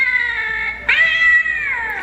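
An animated skeleton cat Halloween decoration in a craft store lets out two loud, close electronic meows, the second starting right as the first breaks off.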